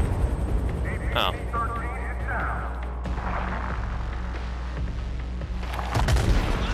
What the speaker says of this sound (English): This guy's firing.